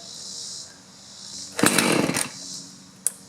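A two-stroke chainsaw that has sat unused is choked and primed, then sputters briefly to life with a short raspy burst of engine noise, dropping back before a final small pop.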